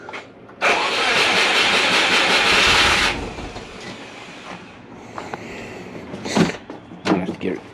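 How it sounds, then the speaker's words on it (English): A Subaru Forester with an idle problem cranks for about two and a half seconds with a loud whirring starter, then catches into a quieter idle, followed by clunks and a voice talking. "Let's see if we can crank it and get it started."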